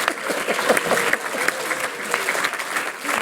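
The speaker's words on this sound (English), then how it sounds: "If we could just do a round of applause to Kevin Durgeon." Short burst of audience applause at an acupuncture practice gathering, a room of hands clapping with uneven, lively claps and a few scattered voices mixed in.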